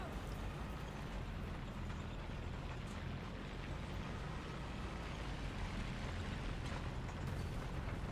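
Enemy tank's ammunition detonating in War Thunder: a steady, loud, roaring explosion rumble that holds at an even level for the full length, with no talk.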